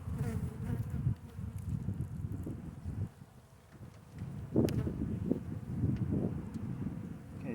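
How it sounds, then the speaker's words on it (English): Close, dense buzzing of many honeybees in an open hive during a March inspection, droning steadily with small swells and dips, alongside faint rustling and handling sounds. "this one has got some emerging bees"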